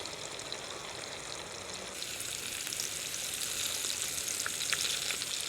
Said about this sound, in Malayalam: അപ്പോൾ ഇതേ നമ്മുടെ കാടക്കുട്ടന്മാർ നല്ല പോലെ ഫ്രൈ ആയി വന്നിട്ടുണ്ട്.